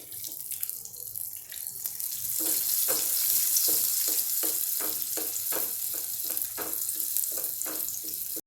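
Corn patties coated in poha crumbs and maida slurry fry in a pan, giving a steady loud sizzle with a run of quick, close taps and clinks as they are moved.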